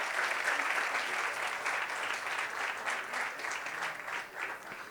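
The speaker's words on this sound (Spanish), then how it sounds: "Un fuerte aplauso." Sustained audience applause at a business expo held in an industrial park, a dense steady patter of many hands clapping at moderate volume that tapers slightly toward the end.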